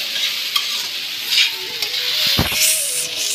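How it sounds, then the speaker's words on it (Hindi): Tomato rice frying in a pan, a loud continuous sizzle with the scraping and knocking of a spoon stirring it, close up and with no speech. "यहाँ पे देखिए मैं बना रही हूँ टमाटर चावल, मतलब फ्राई कर रही हूँ"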